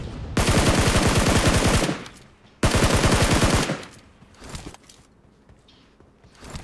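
Two long, loud bursts of rapid automatic gunfire in a shooting video game, each lasting over a second, followed by scattered quieter shots and rattles in the game mix.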